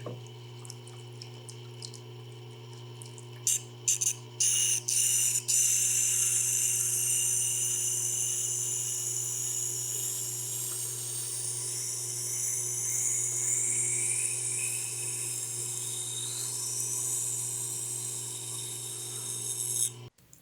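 An abrasive blade grinds into high-impact ceramic stone, giving a steady, loud, continuous whirring grind with a constant low hum that runs the whole length, with a few brief breaks near the start.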